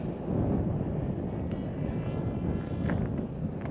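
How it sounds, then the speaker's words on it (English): A Stealthwings stealth-spec model aircraft flies past, its propeller giving a steady, dense buzzing drone with wind rush on the microphone throughout. "it's a lovely little flying machine"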